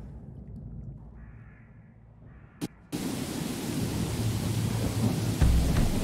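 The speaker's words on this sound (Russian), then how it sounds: "тут бесконечно дождь идет" Rain and a thunderstorm in modded Skyrim Special Edition: a low rumbling murmur gives way to a steady, loud, broadband downpour hiss that fills the rest of the scene, with no voices.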